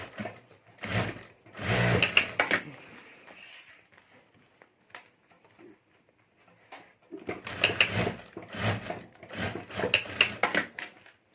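A sewing machine runs in two bursts of rapid stitching along the side of a clutch bag pocket, with a quiet pause between them.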